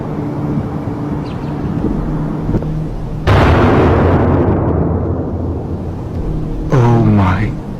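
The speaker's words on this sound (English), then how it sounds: "Was that a gunshot?" A sudden loud gunshot-like blast rings out in a dark, tense outdoor scene, its noisy burst slowly decaying over several seconds, followed by a brief voice.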